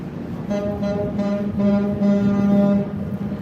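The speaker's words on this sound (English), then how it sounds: "They honk their horn at us." A cruise ship horn sounds in several deep, honking blasts during sailaway, the last ones longer and louder, carrying strongly over open water.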